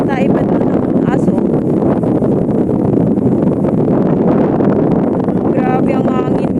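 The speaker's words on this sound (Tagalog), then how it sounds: "Grabe ang hangin, guys. Hangin dito sa palayan." Strong wind buffets the microphone in a rice field, a loud, steady roar that fills the whole clip, with a voice speaking briefly at the start and end.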